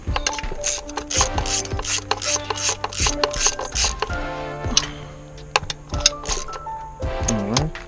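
A hand ratchet clicks in quick repeated bursts while threading and snugging intake bolts on an engine during an upper intake and fuel rail install, with gear-like clatter and small metallic knocks close by.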